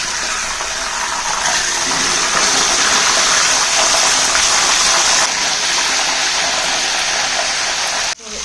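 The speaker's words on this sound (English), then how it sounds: "So always be wary of the oil spills. They really splatter a lot, as you can see." Fish deep frying in a pan of hot oil, a loud, dense, continuous sizzle and crackle of splattering oil held close for several seconds before a brief break near the end.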